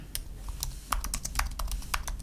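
Rapid clicking of computer keys while a name is typed into a form field in the Photopea image editor, a quick irregular run of sharp taps close to the microphone with no talking.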